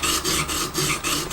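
A knife blade worked near its tip across an oiled sharpening stone, giving a steady rhythmic rasping of repeated strokes, moderately close and unaccompanied by talk.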